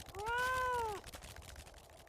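A single cat meows once, a clear rising-and-falling cry lasting about a second at moderate distance, followed by faint background noise.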